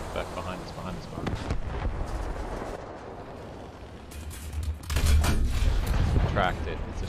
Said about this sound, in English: Something just seems to be shooting at us